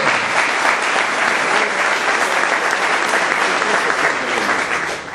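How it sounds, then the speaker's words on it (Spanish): A church congregation applauds during a sermon, a dense, steady wash of many hands clapping that stays loud and even before easing slightly at the end. "Dame un aplauso al Señor"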